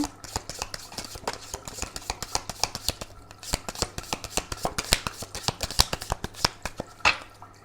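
Tarot cards are pulled and shuffled from a deck, a steady run of close, crisp papery flicks and slaps for several seconds, with no voices.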